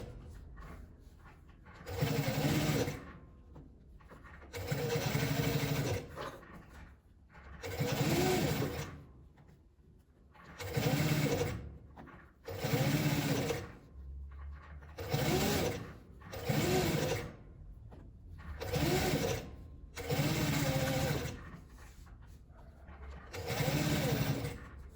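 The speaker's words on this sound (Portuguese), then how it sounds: "Vou começar costurando, fechando a parte da abertura." Sewing machine stitching closed the opening of a patchwork fabric flower rug, about ten short whirring runs of a second or two each, separated by brief pauses, close and steady.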